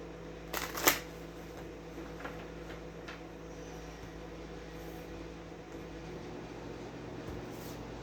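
Tarot cards being shuffled in a quiet room, a brief riffle near the start followed by soft, steady handling over a low background hum.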